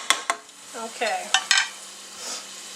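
Pot roast vegetables stirred in a pan, with a spoon knocking and scraping in a few sharp strokes over a soft, steady sizzle; no one speaks.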